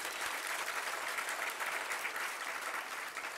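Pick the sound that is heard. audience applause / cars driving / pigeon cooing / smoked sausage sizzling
audience applause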